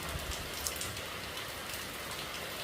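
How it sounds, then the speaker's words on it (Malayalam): Heavy rain pours steadily on a rainy morning, a dense and even hiss of drops striking surfaces nearby, with no talk over it. "നല്ല മഴയാണ്"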